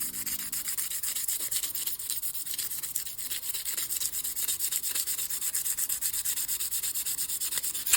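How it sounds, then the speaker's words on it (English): Folded sandpaper rubs steadily across a piece of clear acrylic for a lamp kit, producing a continuous hissy scratching with quick back-and-forth strokes, close and fairly quiet, with no talking. "fold it in half, and you're going to sand your clear acrylic"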